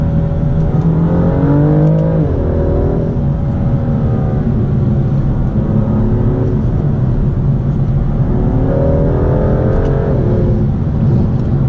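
BMW M2 with a remote-controlled performance exhaust revs hard after downshifting, engine notes climbing in repeated surges, then falling away between pulls, loud and close with no talk.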